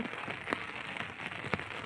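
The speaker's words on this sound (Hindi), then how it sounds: "मौसम देखो कितनी तेज बारिश लगी है" Heavy first monsoon rain of the rainy season pours steadily onto a rooftop, a dense continuous hiss with scattered sharper drop impacts, moderately loud with no voices.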